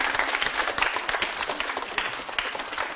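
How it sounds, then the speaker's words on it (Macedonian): Audience applause for a group of girls after a performance at a televised children's show, a dense, steady wash of many hands clapping at once, fairly loud and continuous throughout with no talk over it. "Еден аплауз за овие девојки."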